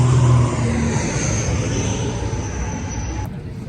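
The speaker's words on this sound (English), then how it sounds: "Making our way to the helicopter." A steady, loud engine drone with a whining high tone, close by and continuous, fading slightly toward the end.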